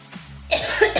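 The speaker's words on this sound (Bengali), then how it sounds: "কাশিটা কমেনি গো, কাশিটা এত খারাপভাবে উঠে" A person gives a short, harsh cough followed by a rougher throaty burst, close and fairly loud, with no speech.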